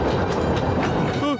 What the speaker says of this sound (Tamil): ட்ரெயின் வருது.